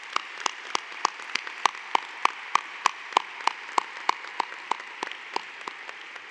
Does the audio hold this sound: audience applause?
yes